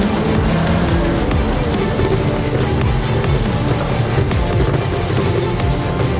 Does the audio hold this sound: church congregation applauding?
no